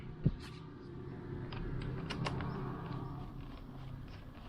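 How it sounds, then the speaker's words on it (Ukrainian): Negative terminal clamp being unscrewed from a car battery, with faint clicking, ratcheting metal sounds and one sharp knock near the start over a low steady background hum. "Відкручую мінусову клему."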